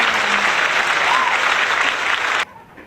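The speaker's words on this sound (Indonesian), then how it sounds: "tepuk tangan" An audience in a classroom session applauds, a dense, loud burst of many hands clapping together that stops abruptly near the end, leaving quiet room tone.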